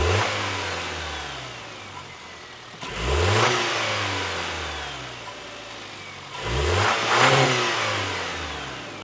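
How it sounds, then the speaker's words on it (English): A 2025 Toyota 4Runner with its stock airbox revs while parked and unloaded, two distinct throttle blips rising and falling over a steady idle, close and clear with no talking. "I want to give you guys some sound clips of the stock airbox so we can compare later to the K&N 63 series"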